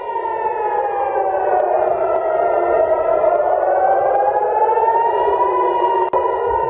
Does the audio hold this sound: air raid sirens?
yes